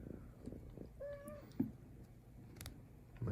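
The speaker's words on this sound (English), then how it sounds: "My cat has other plans if you're hearing him." A cat gives one clear, rising-falling meow partway through, fairly close, against quiet room noise and light handling clicks, with no talking.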